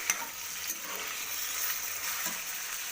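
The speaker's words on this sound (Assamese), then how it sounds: "এতিয়া মই পিঁয়াজখিনি ভালদৰে ফ্ৰাই হোৱাৰ পাছত পৰ্কখিনি দি দিছোঁ" Pork and onions frying in a pan, a steady close sizzle with scattered crackles and stirring scrapes, no voices.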